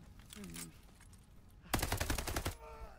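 Rapid automatic gunfire from the video game Call of Duty: Vanguard bursts out loudly in a dense rattling volley for under a second, after quieter game sounds and a faint tone.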